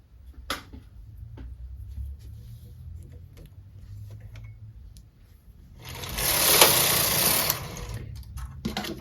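A knitting machine carriage running with Lycra yarn, a faint clicking and ticking mechanism that builds into a louder whirring, rattling pass lasting about two seconds.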